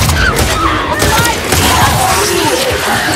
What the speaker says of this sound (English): And there goes another explosion.